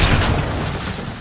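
Grenade explosion in the video game Starfield, one loud, close, broadband boom that fills the whole brief moment and fades slightly toward the end.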